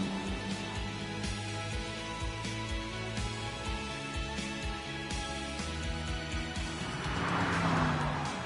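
BMW grand tourer with a V8 engine driving on the road, a close, steady engine drone with shifting pitch and a louder swelling surge near the end, with no talking.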